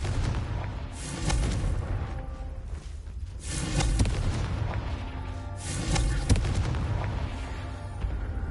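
Confringo blasting spell explosions in Hogwarts Legacy: repeated booming blasts with rumbling low end, several bursts in succession over steady game ambience.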